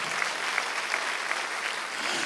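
Congregation applauding during a Sunday worship service in a church, a steady dense wash of clapping filling the space from start to finish with no voices over it.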